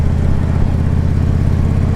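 A 2014 Harley Ultra Limited motorcycle being ridden, its engine giving a loud, steady low rumble mixed with wind noise and no break in the sound.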